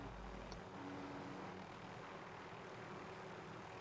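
Helicopter engine in Call of Duty: Modern Warfare 2, a steady, continuous drone with a low rotor hum running evenly throughout at a moderate, constant level.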